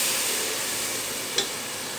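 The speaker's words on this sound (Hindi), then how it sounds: "इसको अच्छे तरीके से भूनेंगे।" Salt, chili and turmeric masala fry in a pan for aloo gosht, giving a steady, close, even sizzle with one brief bright tick partway through and no talking.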